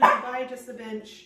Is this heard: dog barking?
yes